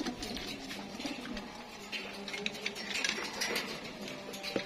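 Domestic pigeons coo steadily in their loft, a soft continuous murmur of overlapping calls with faint ticking and rustling, close but low in level and with no voices.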